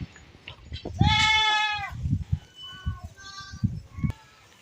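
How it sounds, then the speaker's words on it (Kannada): Beetal goat on a goat farm gives one loud drawn-out bleat, then shorter bleats among nearby voices and farm chatter. "ಇದು ಮೂರು ತಿಂಗಳು ಹೆಣ್ಣು ಮೇಕೆ"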